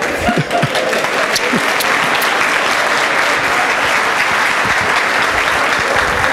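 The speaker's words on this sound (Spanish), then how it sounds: "El aplauso para ellos" Sustained applause from a large audience at a church sermon, dense and steady clapping throughout with no pauses, loud and close.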